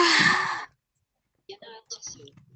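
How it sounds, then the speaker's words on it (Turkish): A person yawns, a long breathy exhaled sound for about half a second, followed by silence and then short bits of nearby talk. "Ben şey yaptım ya esnedim."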